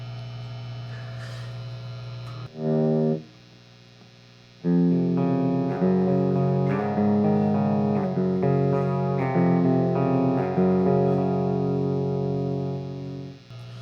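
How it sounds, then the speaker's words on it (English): Clean electric guitar through a Randall RG80ES amplifier's clean channel, sustained chords and picked notes ringing out with a steady background hum, after a brief opening strum and pause. "But I'll show you guys the clean channel."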